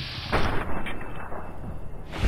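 Hunting rifle fire in the Fallout: New Vegas shooter during a firefight with Powder Gangers at Goodsprings, heavy booming gunshots with a loud opening blast and another at the very end over a dense rumbling battle backdrop.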